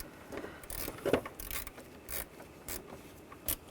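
A ratchet tightening bolts on a 2009-2017 Volkswagen Tiguan intercooler gives quick, close clicking bursts in short uneven strokes, with brief pauses between.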